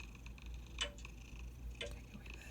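A quiet clock ticks softly and evenly on its own, a light tick about once a second over a low steady background hum.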